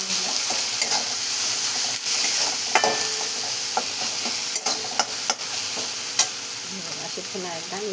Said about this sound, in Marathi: हळद टाकल्याच्यानंतर पुन्हा एकदा मिक्स करून घेणार.